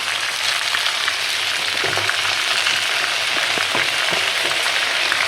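Rui fish fries in hot oil with a steady, dense sizzle and occasional soft pops and crackles, close and even throughout, with no talking.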